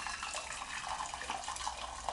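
Pre-boiled hot water pours steadily into a pan, a soft continuous splashing and trickle, faint and alone for a couple of seconds.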